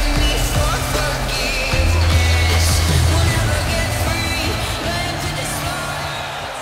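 A wrestling arena crowd in the Rumble of Roses game roars steadily, a dense wash of cheering and yelling with scattered bangs and shouts, loud and continuous across the whole stretch.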